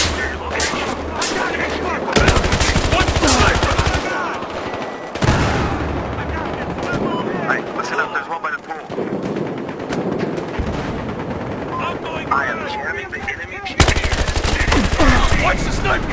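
Sniper and rifle fire in a Battlefield Hardline multiplayer match, loud repeated gunshots and bursts over dense battle noise, with a voice calling out during the fighting.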